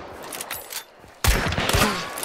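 Gunfire in the video game Hunt: Showdown: after a quieter stretch, a loud, close burst of rapid overlapping shots erupts and rings on to the end.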